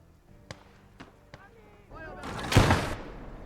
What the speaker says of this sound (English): A rifle nade somewhere on the left